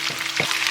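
Fish and garlic slices fry in a hot pan with a steady, close sizzle and a couple of soft stirring bumps.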